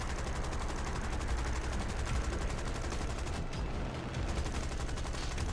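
Rapid aircraft cannon and machine gun fire from a War Thunder arcade air battle, a dense steady stream of shots rattling without pause over engine drone, with no voices.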